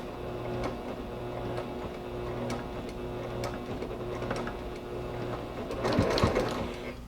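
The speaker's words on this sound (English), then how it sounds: "I'll start sewing about 1/4 of an inch down and then stitch along." A sewing machine runs steadily as it stitches binding onto a finished quilt, a continuous low mechanical whir with faint regular ticking and a brief louder clatter near the end.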